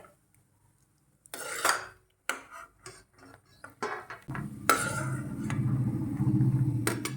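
Roasted almonds are scooped out of a pan of ghee over a medium flame, giving irregular metal scrapes, clinks and rustles, with a soft sizzle building toward the end.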